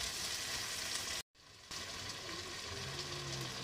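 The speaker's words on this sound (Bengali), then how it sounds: "এবার দিয়ে দেবো আদা রসুন বাটা" Ginger-garlic paste sizzles in hot oil in a pan for a thin mutton curry with potato and papaya, a steady close hiss that cuts out briefly and then resumes at a slightly lower level.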